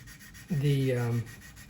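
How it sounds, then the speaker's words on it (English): A brief squeaky rubbing, like a wet sponge scrubbing a hard surface, lasting under a second against quiet background: a wet sanding sponge sanding primer off a Tamiya 1/32 P-51D model. "sand off all the primer"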